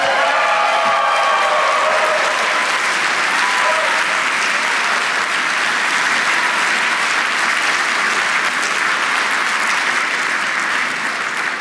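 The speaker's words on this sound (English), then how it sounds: "Now clap." A room full of guests applauds at an annual awards dinner, a dense, steady roar of clapping that holds at an even level for over ten seconds with no talk on top.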